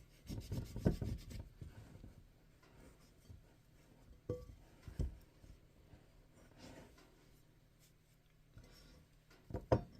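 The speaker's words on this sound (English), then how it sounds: "Just scrape down the sides, make sure you're getting all the flour." A spatula scraping flour from the sides of a mixing bowl while sourdough is stirred together, heard as soft, close, intermittent rubbing strokes with a few louder scrapes at the start and end, and no voice.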